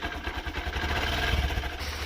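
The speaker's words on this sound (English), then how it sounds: "That idle is way too low" A 2023 Honda CB125F motorcycle engine idles too low and rough, a steady loping chug with uneven pulses, heard up close.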